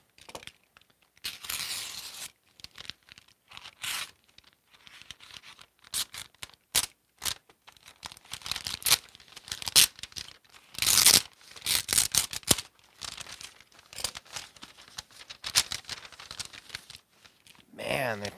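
Tape being torn and peeled off a tightly packed comic book shipping package, a run of close, loud ripping and scratching bursts with crinkling cardboard between them, and a voice talking intermittently.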